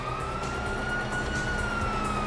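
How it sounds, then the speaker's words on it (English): A steady police siren tone in the video game GTA V holds over a rumbling, busy background, continuous and fairly distant throughout. "You hear that? Sirens!"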